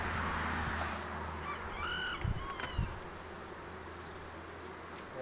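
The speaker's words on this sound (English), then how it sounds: "I got bees on my frame holder" Honey bees buzz steadily around a hive frame outdoors, a dense close drone with a few brief louder passes near the microphone and some faint bird calls in the distance.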